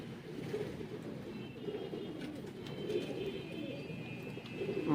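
Sialkoti pigeons coo softly in a low, continuous murmur, several birds overlapping nearby, with faint chirps and a thin tonal whine in the background.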